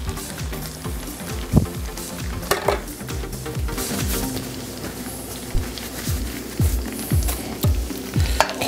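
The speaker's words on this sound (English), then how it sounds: "we're just going to move the egg around so you don't want to turn it into scrambled eggs" Egg sizzles in a pan with mixed vegetables for a cheese omelette while a utensil stirs and scrapes, steady frying hiss under repeated close clinks and scrapes, no talking.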